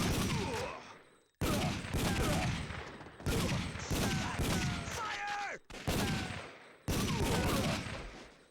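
Gunfire from the PlayStation light-gun game Time Crisis, bursts of rapid shots in several loud volleys separated by brief silent cuts, with game effects layered in.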